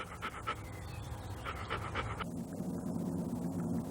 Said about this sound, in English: as soon as it overheats, it opens its mouth, lets its tongue flop out and begins to pant